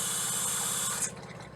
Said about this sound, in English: I'm going to open this up until the pink fluid starts coming out.